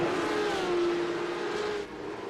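Porsche Cup race car in a racing game accelerating onto the front stretch, a steady engine drone with a rising whine that holds, then drops off near the end, no talk.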